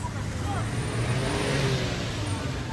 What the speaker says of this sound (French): Ça c'est le véhicule de maman Marc qui sort.